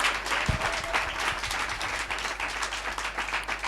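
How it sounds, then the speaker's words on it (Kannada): A congregation at an evening prayer meeting claps loudly together, a dense sustained burst of applause from a crowd filling the whole stretch, with a faint hum beneath. "ಎಲ್ಲರೂ ಒಂದ್ಸಲ ಗಟ್ಟಿಗೆ ಚಪ್ಪಾಳೆ ಹೊಡೆದು ದೇವರಿಗೆ ಮಹಿಮೆ ಪಡ್ತಾನೆ"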